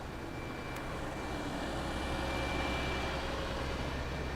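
A car's air conditioning compressor runs and pumps refrigerant, giving a steady, even mechanical hum and whir with a faint high whine, continuous and fairly close with no voices.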